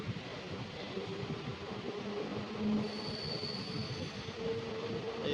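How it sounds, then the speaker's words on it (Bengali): A Howrah–Medinipur local train departs Santragachi station at night, rolling steadily with a low rumble and faint wheel squeal, a continuous mechanical drone with no voices. "গাড়ি আমাদের ছাড়লো সাঁতরাগাছি স্টেশন থেকে"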